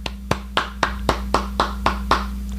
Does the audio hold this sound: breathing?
no